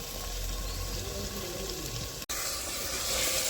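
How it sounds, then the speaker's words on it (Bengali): Chicken sizzling and simmering in a handi pot with oil, tomato and whole garlic, a steady close bubbling hiss with a brief break midway, no talking. "আজকে নতুনভাবে রান্না হচ্ছে হাঁড়িতে মাংস রান্না হচ্ছে"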